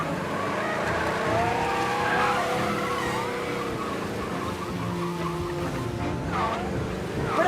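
A car engine in the video game Mafia: Definitive Edition revs steadily with tire squeals and skidding, a continuous loud motor drone throughout.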